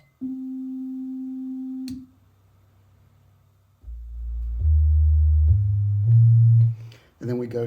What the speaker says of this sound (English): So our sine wave is a nice pure tone.